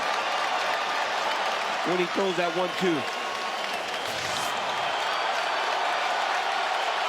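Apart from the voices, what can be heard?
UFC crowd cheering and applauding the fight exchange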